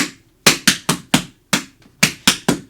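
Tap shoes on a hard floor beat out cramp rolls, a brush followed by a long pause and then quick heel and toe strikes, with sharp close taps in uneven clusters and no talking.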